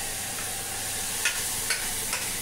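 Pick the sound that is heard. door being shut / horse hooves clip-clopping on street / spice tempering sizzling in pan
spice tempering sizzling in pan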